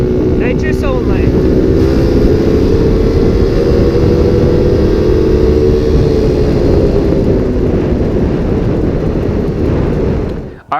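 A four-stroke pocket bike engine running on nitrous roars loud and steady at close range, holding a sustained drone for about ten seconds before cutting off abruptly at the end.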